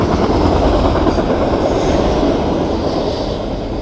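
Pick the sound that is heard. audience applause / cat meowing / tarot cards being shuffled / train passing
train passing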